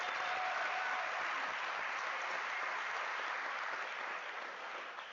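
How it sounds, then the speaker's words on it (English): Steady applause from a graduation-ceremony audience for the graduates' supervisors at the University of South Africa's spring graduation, dense and sustained clapping that holds evenly before tapering slightly at the end. "Let us also give them a round of applause."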